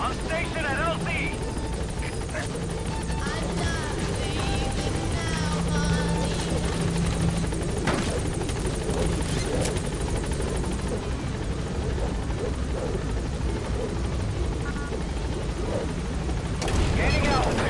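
A support helicopter in Metal Gear Solid V hovers at a landing zone with a loud, steady rotor roar and engine whine for the whole stretch, with faint voices and brief bursts of noise over it.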